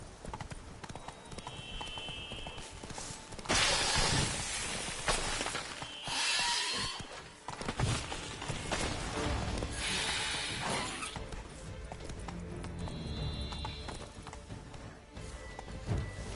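In The Witcher 3: Blood and Wine, the horse Roach trots with steady, close clip-clop hoofbeats running continuously under a busy game soundscape, with occasional louder crashes and effects mixed in.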